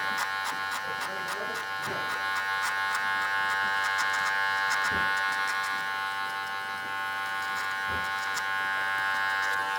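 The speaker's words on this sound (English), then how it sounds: "I'll keep the clipper flat on the head with the back end of the clipper slightly down" Electric hair clippers buzz steadily close up while cutting hair for a disconnected, blended haircut, a continuous whining drone with slight changes in pitch and a few soft bumps against the head.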